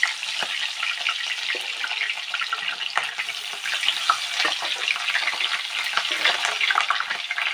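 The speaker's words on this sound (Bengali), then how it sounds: "এবার আমি চিংড়ি মাছগুলো দিয়ে দেব।" Prawns fry in hot mustard oil, a loud, dense, crackling sizzle peppered with rapid popping spits that runs steadily from start to finish, close by with no talking.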